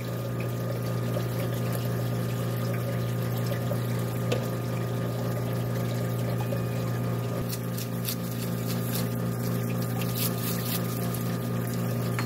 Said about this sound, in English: we've got everything cleaned up in the parts washer